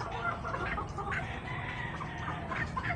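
Gilliam Roundhead gamefowl in breeding pens clucking with soft, repeated nearby clucks over a steady farm-yard background hum.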